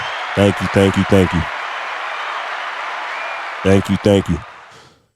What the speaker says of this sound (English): So yeah, round of applause, man.